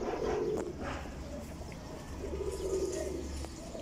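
Many pigeons, a high-flying game breed, coo steadily in a loft, a dense overlapping murmur with low hum beneath and some faint background voice.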